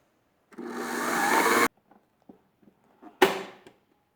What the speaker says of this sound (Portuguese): E bater então em velocidade média até obter a consistência que a gente deseja